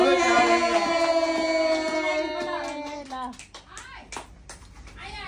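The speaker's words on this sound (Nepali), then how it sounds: "ताली ताली।" Scattered hand claps from guests at a baby shower break out after a stretch of group singing, a few sharp claps close by with voices still mixed in.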